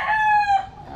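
A roundhead gamecock crows once, a loud, close, drawn-out call that rises and then trails off.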